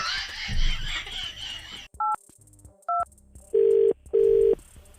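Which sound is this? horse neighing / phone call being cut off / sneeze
phone call being cut off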